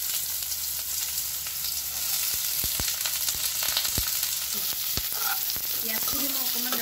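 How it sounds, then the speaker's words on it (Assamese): Onions fry in a pan with dried chillies, a steady close sizzle broken by sharp stirring knocks of a spoon against the pan. "পিঁয়াজখিনি মই অকণমান ৰঙচুৱা হোৱাকৈ ভাজিম"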